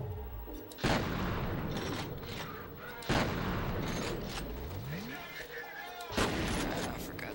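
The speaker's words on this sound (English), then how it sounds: "I barely can see what I'm shooting at, so I have no idea if I'm actually having any effect here." Gunfire in the shooter game F.E.A.R., dense and continuous with three heavier booming impacts spaced a few seconds apart, loud and close against a busy background of combat noise.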